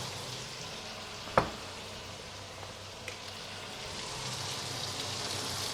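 A steak sizzles in a hot frying pan. The steady, soft hiss carries on throughout, broken by one sharp spatter early on and a fainter pop later.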